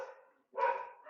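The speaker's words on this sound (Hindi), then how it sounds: "जैसा अभी कुत्ता भौंक रहा है," A dog barks twice nearby, a short yelp followed by a longer, louder bark, heard alone with no talk over it.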